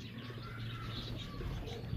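Soft, low cooing from a large pigeon kept by a Pakistani pigeon fancier in Peshawar, a continuous murmuring coo heard close but faint against a background hum.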